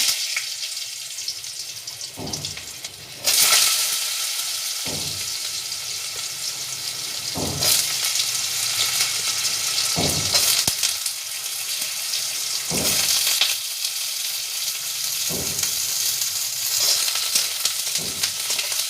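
Potatoes fry in hot oil seasoned with dried chilli and five-spice, a steady close sizzle broken by periodic louder bursts and scraping as the pieces are stirred, with no talking.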